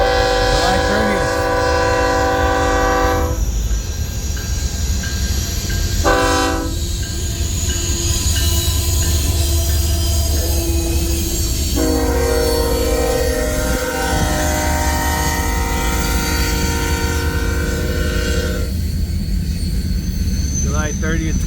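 A northbound freight train passes Pacific Junction, Iowa, heading west onto the Crescent Sub, sounding several long, loud horn blasts over a continuous rumble of rolling cars, with a voice talking faintly underneath.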